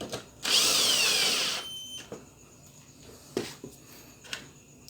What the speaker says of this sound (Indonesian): lalu kita baut lagi. Baut satu dulu ya, biar dia tidak goyang.